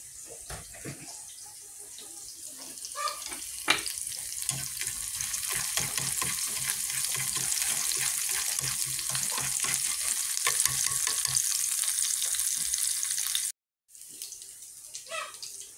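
Fish braising with black pepper in a pan, giving a steady, close sizzle and bubbling with faint stirring scrapes that runs throughout and stops briefly near the end.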